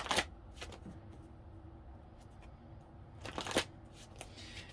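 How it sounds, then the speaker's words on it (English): Playing cards are shuffled in two quick riffling bursts, one at the start and another a few seconds later, with quiet handling in between. "A couple more big shuffles."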